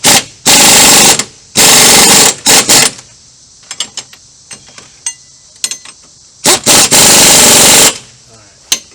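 An impact wrench with a 19 mm socket drives bolts during a truck lift kit install, firing in loud, close bursts of rapid hammering lasting one to two seconds each, with quieter clicks and handling noises in the gaps.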